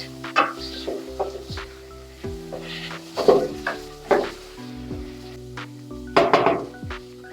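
Celery being stirred in a sizzling pan, with a utensil scraping and clinking against the pan in several separate bursts over a steady fry, close and fairly loud.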